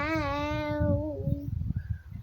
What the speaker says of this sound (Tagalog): Meow meow meow lagi.